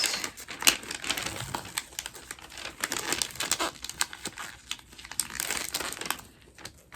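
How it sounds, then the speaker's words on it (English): Wrapping paper for a Christmas present crinkles and crumples in close, irregular bursts of rustling and crackling, with brief pauses between handfuls. "You'd think that it'd be easier to wrap this, but this paper is not making it easy."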